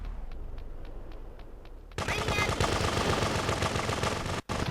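Gunfire in the video game Grand Theft Auto 2, starting with a quiet run of evenly spaced shots, then abruptly bursting into loud, dense continuous automatic fire with a brief dropout near the end.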